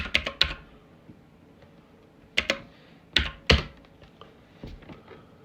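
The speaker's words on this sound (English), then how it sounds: "Ignore my bad typing skills." Keys clatter on a computer keyboard in short irregular bursts of sharp clicks, with a few louder thunking strokes and quiet pauses between clusters, close and alone.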